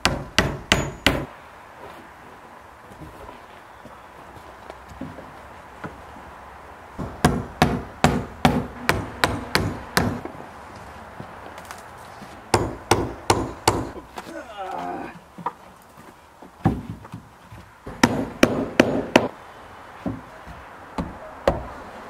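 Someone hammers trim onto the outside of windows in quick bursts of sharp, nearby strikes separated by pauses. Quiet talk is heard in the gaps.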